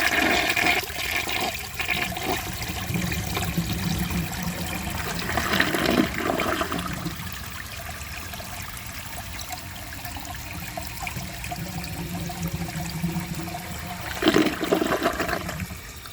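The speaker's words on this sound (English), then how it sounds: "It had a really nice flush" A 2022 Mainstays high-efficiency toilet with an overfilled tank and a clogged siphon jet flushes with the handle held down, a loud rushing swirl that eases into trickling refill and then surges again.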